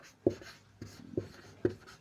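Marker or chalk strokes on a board during a classroom-style lecture: three or four short, scratchy strokes in a quick, uneven rhythm, close and clear with no speech over them.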